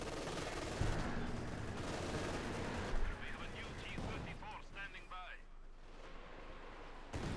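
Katyusha rocket artillery firing in the snowy World War II strategy game Company of Heroes 2, a dense rumbling barrage of launches and blasts over continuous battle noise, with quick whistling tones near the end and a voice commentating.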